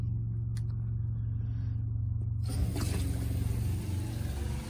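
A water supply pump in a RAM ProMaster van build switches on partway through. A faint mechanical hum turns into a steady, fairly quiet whirring run with a low rumble underneath, and no talking.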